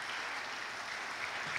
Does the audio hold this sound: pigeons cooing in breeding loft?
no